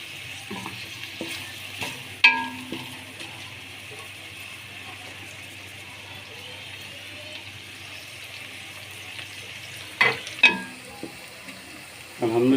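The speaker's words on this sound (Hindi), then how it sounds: "प्याज हमारा ब्राउन हो रहा है" Onions browning in a frying pan for a chicken and green pepper curry give a low, steady sizzle throughout, with a few sharper clinks of stirring and scraping near the start and end.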